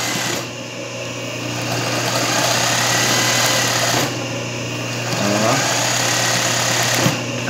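A sewing machine stitches a zigzag rechilieu embroidery pattern in steady whirring runs, pausing briefly twice before starting up again, close and fairly loud with no talking.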